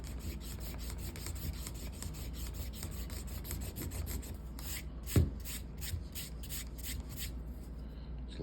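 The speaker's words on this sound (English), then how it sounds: "So I'm just going to use this eraser." An eraser rubs metal shavings off a leather strop in steady back-and-forth strokes, a close, repetitive rasping scrub with one brief knock partway through.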